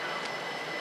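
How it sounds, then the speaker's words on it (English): A train rolls toward platform 11 at Clapham Junction station, a steady, moderately loud rumble with a faint high whine over it, continuous through the short moment. "The train now approaching platform 11 is the 1606 Southwest train service."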